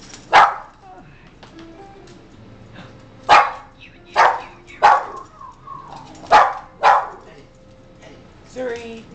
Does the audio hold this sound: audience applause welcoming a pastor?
no